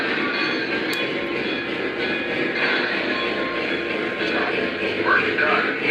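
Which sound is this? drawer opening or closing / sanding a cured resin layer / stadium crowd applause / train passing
train passing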